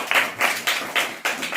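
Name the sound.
classroom children clapping for classmates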